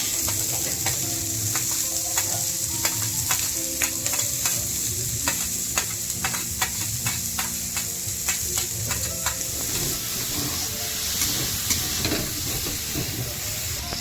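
Onions frying in a pan for chicken momo filling, a loud, continuous close sizzle with bright hiss, broken by repeated scraping and clinking stir strokes throughout, with no talking.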